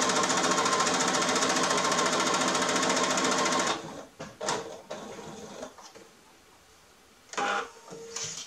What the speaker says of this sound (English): going to sew with a 1/4 inch seam allowance all the way along the bottom zigzag edge of the